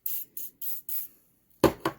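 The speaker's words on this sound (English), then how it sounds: "Spray her down." Four quick bursts of spray cleaner hiss onto a Mosin Nagant rifle magazine, then after a pause two sharper, louder bursts follow, close and with no voices.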